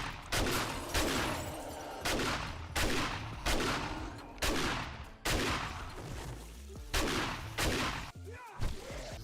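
Repeated shotgun blasts aimed at a radiated zombie in the game 7 Days to Die, about eight heavy booming shots at a steady pace, each decaying before the next, loud and close.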